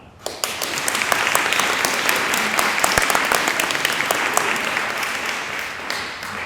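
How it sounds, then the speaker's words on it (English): A theatre audience at a school one-act play breaks into loud applause that starts abruptly and holds steady, a dense crowd of clapping hands with a few sharper claps standing out near the front. "Please clap."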